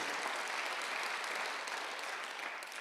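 A church congregation claps at a Sunday worship service, giving steady, dense applause from a large crowd that holds even throughout and fades slightly near the end, with no voices over it.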